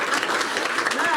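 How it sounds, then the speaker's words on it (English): Audience applause in a hall during a hope-themed community talk, a short steady burst of clapping with some voices mixed in, close and moderately loud. "Clap again."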